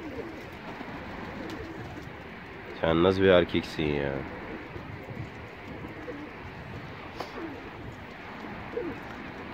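A male pigeon coos in a pigeon loft, a close throaty burst of rolling coos standing out over steady background noise, while someone talks over the birds.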